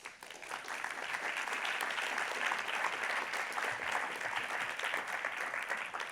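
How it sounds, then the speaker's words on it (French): Audience at a round-table discussion on accessibility bursts into dense, sustained applause that fills the room steadily for several seconds before easing slightly at the end. "Je pense qu'on peut les applaudir."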